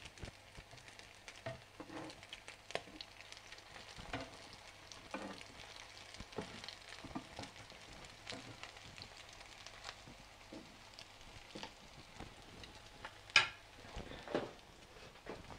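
Fish cutlets, round and oval, frying in oil in a pan, a faint low crackle of sizzling with scattered soft pops and occasional clinks of a utensil, no talking.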